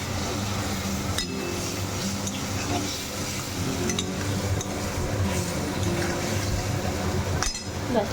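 Mustard seeds frying in a pan while being stirred, with light metallic clinks of a spoon against the pan over a steady sizzle, close by, with faint talk.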